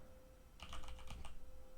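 Quick typing on a computer keyboard, a short burst of soft, rapid key clicks lasting under a second against a faint steady hum.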